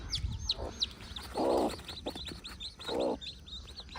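Hens on a goat and poultry farm cluck in quick repeated bursts, with higher chirps from birds nearby and two louder, broader bursts of noise, close and clear with no talking.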